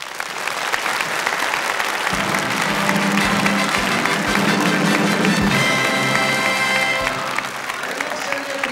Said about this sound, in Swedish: Och lika stor applåd förstås.